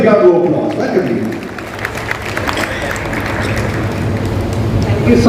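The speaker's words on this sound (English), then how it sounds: "Let's get a big round of applause." A crowd claps and cheers steadily to welcome a keynote speaker, an advocate, at an apartment-living legal event, the applause full and sustained throughout with some voices mixed in.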